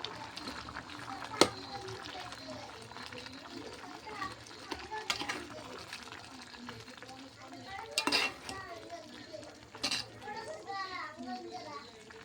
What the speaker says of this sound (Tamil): கடலை மாவு ஊற்றின பின்னாடி நல்லா கொதிக்குது